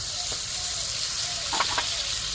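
Ground spinach paste goes into hot oil in a pan, giving a steady high sizzle with a few brief louder crackles and spoon scrapes toward the end.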